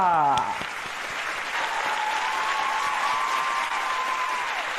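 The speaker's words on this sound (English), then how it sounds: "please give another round of applause for our Dr. Ronashit Puthala and Mrs. Puthal" A festival audience breaks into a round of applause, steady, continuous clapping from a large crowd in a hall after a brief opening sound, evenly loud throughout with a faint tone drifting underneath.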